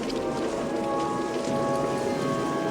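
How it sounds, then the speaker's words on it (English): Steady rain pours down, a dense continuous hiss of drops on surfaces, even and unbroken throughout. "Oh good, it's raining."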